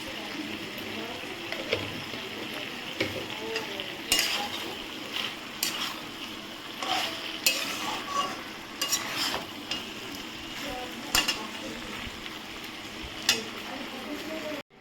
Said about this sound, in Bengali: এটা নেড়ে দেখাচ্ছি